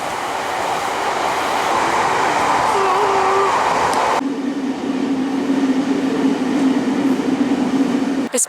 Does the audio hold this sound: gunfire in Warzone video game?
no